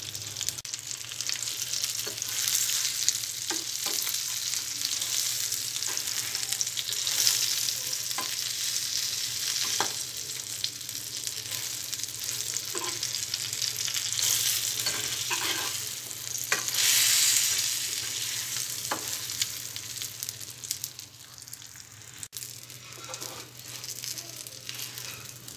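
Sesame-stuffed brinjals fry in a pan with a steady, moderate sizzle over a low hum, and occasional spatters and soft clicks are heard throughout, with no talk.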